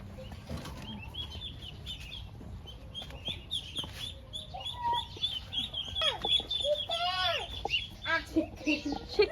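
Chickens on a rural Philippine farm cluck and squawk repeatedly near the listener, with wings flapping and busy outdoor background noise, growing more active toward the end while people talk intermittently.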